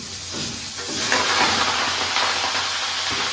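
Vegetables tipped into a hot pan of oil tempered with five-spice seeds, bursting into a loud, continuous close-up sizzle and hiss that holds steady throughout, with no talking.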